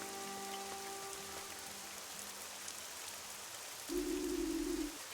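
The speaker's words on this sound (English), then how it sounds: "I told you it was going to rain" Rain falls in a video game set during a thunderstorm, a steady soft hiss of drops throughout, with a brief low rumble near the end.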